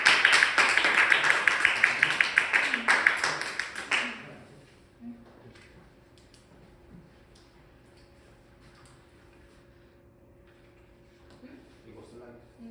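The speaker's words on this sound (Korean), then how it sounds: "네, 박수로 맞아주세요." An audience gives a burst of applause to welcome a guest at a talk on vocational high school student workers, with dense clapping for about four seconds that fades into a quiet room with light shuffling.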